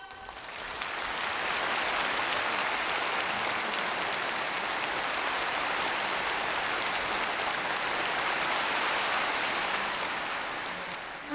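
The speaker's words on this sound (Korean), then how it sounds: "우리 모두 열렬한 축하의 박수를 보내줍시다" A large hall audience at a North Korean commemorative gathering for two revolutionary schools' 75th anniversary bursts into applause. The dense, rain-like clapping swells within the first second, then holds loud and uniform to the end.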